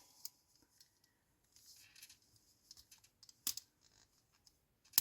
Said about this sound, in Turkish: Evet bu şekilde aparata ipimizi sardıktan sonra şöyle ipimi kesiyorum